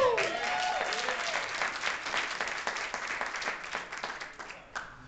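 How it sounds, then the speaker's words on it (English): An audience gives a round of applause for a 21-year-old, starting loud with a brief whoop and gradually thinning into scattered claps that fade toward the end. "Give him a round of applause."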